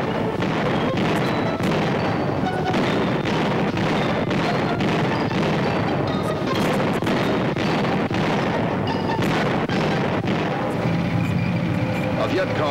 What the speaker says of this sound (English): Contributing to the victory at Dak To were the big tanks and tracked vehicles of the division's armor.